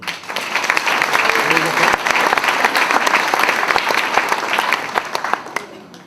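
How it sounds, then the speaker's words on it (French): An audience applauds at a New Year's greetings event, dense sustained clapping filling the room at full volume and tapering slightly toward the end. "On peut les applaudir."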